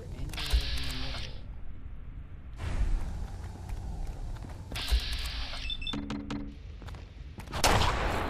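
Gunfire in Fallout 4 comes in separate bursts of sharp shots mixed with metallic clicks and ratcheting mechanical sounds, with quiet gaps between the bursts and a louder burst at the end, at a moderate level.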